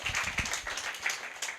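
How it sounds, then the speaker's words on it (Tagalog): A church congregation breaks into steady applause, a dense, even patter of many hands clapping that holds at moderate loudness for the whole moment, with no voices standing out. "Palakpak naman sa Panginoon Diyos."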